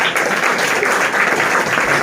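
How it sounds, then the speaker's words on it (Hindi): A crowd in a physics coaching class claps loudly for a district topper's honoured guest, a thick, even burst of applause filling the room from start to finish. "इनके लिए भी जोरदार तालियां"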